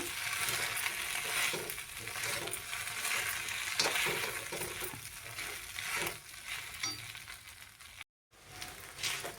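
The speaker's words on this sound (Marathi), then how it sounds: "आता आपण हे व्यवस्थित खिचडी आता परतून घेऊया" Sabudana khichadi with crushed peanuts being sautéed in a pan, with a dense continuous sizzle and rhythmic scraping stirs of a spatula, loud and close, briefly cut to silence near the end, with no voices.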